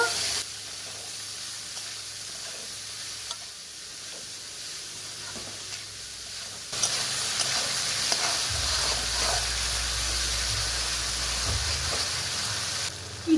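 Chopped bitter gourd frying with ginger garlic paste and salt in a pan, a steady close sizzle and hiss that jumps louder halfway through, with occasional stirring scrapes.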